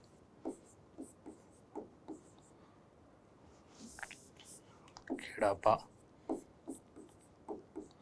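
Pen writing on paper, short scratchy strokes in a light irregular rhythm, close and quiet, with someone speaking Hindi partway through.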